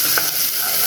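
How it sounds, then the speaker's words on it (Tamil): Ginger and garlic fry in hot oil for mutton kothu kari, giving a brief, steady bright sizzle with a light stir. "அந்த எண்ணெயில் இஞ்சி பூண்டும் நல்லா ஃப்ளேவர் ஆகட்டும்."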